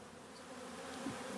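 A beehive in the open on a cloudy, mild day, with many bees buzzing around it in a steady, faint drone of close overlapping hums. No voices.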